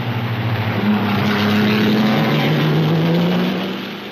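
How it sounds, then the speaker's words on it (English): Hawthorn's Ferrari and Fangio's Maserati, 1950s Formula 2 race cars, roar past with a steady, loud engine drone that holds and then fades slightly at the end. "Hawthorne's Ferrari passed by the Maserati of Fangio."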